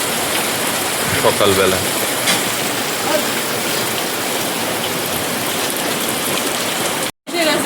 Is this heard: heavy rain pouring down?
yes